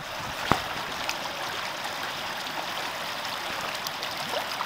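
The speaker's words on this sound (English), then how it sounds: "You can drink that water, it's river water. Mountain spring." Mountain spring river water runs steadily in a shaded forest stretch of Stanislaus National Forest, a continuous close hiss of flowing current with one brief splash near the start.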